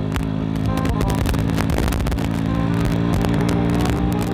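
An old motorcycle engine runs loudly and steadily up close while riding, with a dense rumbling drone throughout.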